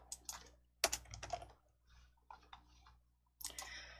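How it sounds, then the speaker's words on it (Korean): Computer keyboard typing during a Korean word-processor lesson, pressing the Ctrl+F10 shortcut: a few close, crisp key clicks in short bursts, then brief pauses and another quick cluster of taps. "컨트롤 F10 눌러주실게요."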